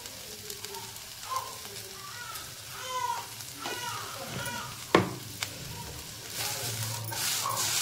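Okra frying and being stirred in a pan: a steady sizzle with scraping strokes and occasional clinks of the spoon against the pan, close and moderately loud, with someone speaking intermittently over it.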